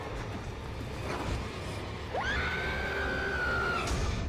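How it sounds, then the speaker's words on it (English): A shrill scream cuts in about halfway through a scene from the horror series The Haunting of Hill House, a long sustained wailing cry that starts sharply, holds steady, then breaks off over a low background murmur. "What was that screaming?"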